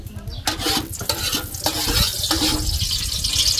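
Onions sautéing in a pan give a loud, continuous sizzle, broken by repeated stirring and scraping strokes against the metal.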